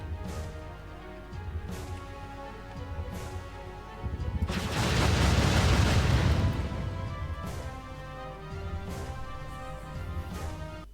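A big rumbling explosion during a flight sequence in the video game Jade Empire, swelling from a steady mechanical drone into a loud roaring blast before fading back, with sharp thuds scattered around it.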